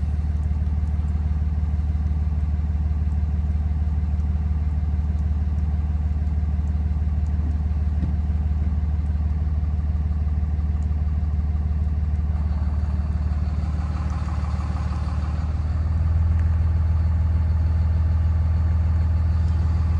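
Cummins 12-valve diesel engine running on a 120 tune, a loud steady low rumble and clatter that holds for twenty seconds, with a lift in pitch and load near the end.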